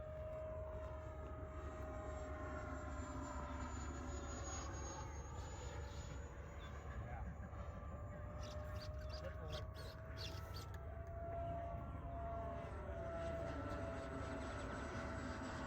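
Steady whine and rush of an RC Flyfans K8 Karakorum 80mm electric ducted fan jet flying continuously, holding a constant high tone at moderate distance, fairly faint, with faint voice and bird-like sounds in the background.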